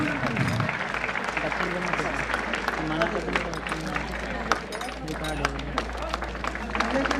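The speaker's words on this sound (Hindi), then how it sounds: "तालियां बजते रहना चाहिए, बंद नहीं होना चाहिए।" A crowd claps continuously at a traffic awareness campaign ceremony, with sharp scattered hand claps over a murmur of voices and a steady low hum, moderately loud throughout.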